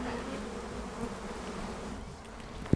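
A bee swarm hums in a blood orange grove, a steady low drone that holds for the whole stretch and ends in one sharp, close thump.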